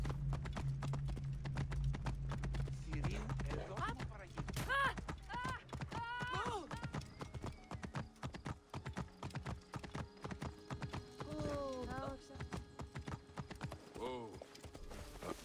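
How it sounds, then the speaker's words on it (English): Rapid clip-clop of horse hooves at a steady gallop in the video game Assassin's Creed Origins, with occasional whinnies and a voice talking over the busy hoofbeats. "I'm riding my horse wherever I want."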